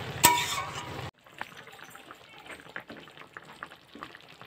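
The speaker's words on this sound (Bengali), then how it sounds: "এই দেখো লাউ রান্না হচ্ছে" Bottle gourd cooks with neem leaves in a pan, a soft, close sizzle with light stirring scrapes that follows a brief louder burst at the start.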